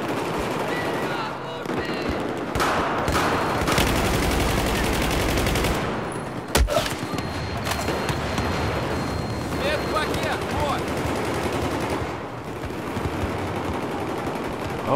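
Shotgun fire in an online shooting video game, with repeated blasts and rapid gunfire over a dense, loud game soundscape, and someone talking over much of it.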